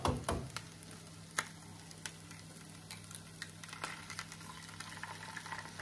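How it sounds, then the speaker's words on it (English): Egg cracked over cheese frying in a pan, a soft steady sizzle with a few sharp clicks and taps near the start and scattered light pops throughout, all fairly quiet with no voices. "I'm just gonna crack my egg right over the top"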